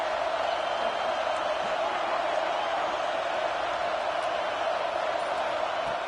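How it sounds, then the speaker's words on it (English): Football stadium crowd at Saban Field roaring on third down, a continuous dense wash of distant cheering and noise, steady and unbroken throughout. "The Tide crowd roaring noise down on the Saban field on 3rd down."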